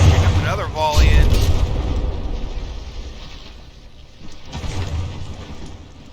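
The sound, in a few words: cannon volley and shell explosions in From the Depths video game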